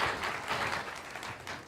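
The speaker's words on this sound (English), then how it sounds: "Round of applause for all the people who voted." An audience at a live climate event applauds people who voted. The clapping is dense, crowd-wide and steady, lasting briefly without any voices over it.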